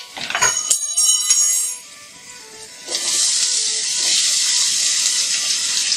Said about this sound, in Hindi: अब इसमें डाल देते हैं आलू और गाजर।